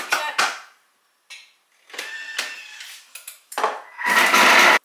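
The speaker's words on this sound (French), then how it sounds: "On insère le couvercle." A plastic lid is fitted onto a Thermomix bowl in a home kitchen, giving several short clattering knocks and scrapes in separate bursts, close and fairly loud, ending in a longer rattling push as it seats.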